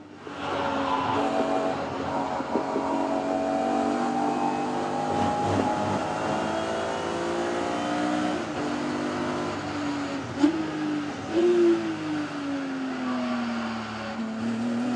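Thunder Saloons race cars at Silverstone International roar past in a continuous loud pack, engines rising and falling in pitch through gear changes, with no talk over them.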